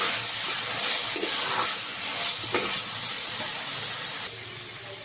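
A spiced chicken filling with tomato sauce sizzles and hisses steadily as it fries in a pan, with faint scrapes and stirring sounds over the continuous crackle.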